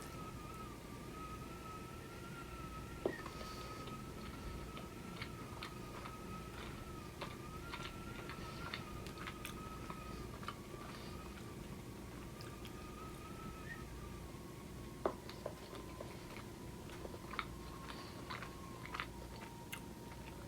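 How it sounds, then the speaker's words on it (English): Biting into and chewing an original Snickers bar of chocolate, caramel and peanuts, heard as soft close-up crunches and chewing over a steady background hum, with a few sharper bite clicks and no talking. "There it is, the OG Snickers. All right, so let's take a bite of it."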